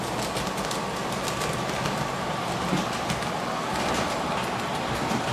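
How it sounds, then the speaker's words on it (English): Model train running on a home layout and into a tunnel, a continuous, even rumbling whir with faint clicking, moderately close and alone. "which you can see the train just entered"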